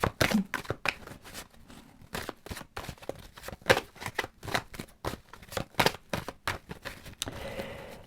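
Tarot cards are shuffled and drawn, a rapid run of crisp riffles and light paper slaps, close and fairly quiet, with a few pauses and no talking.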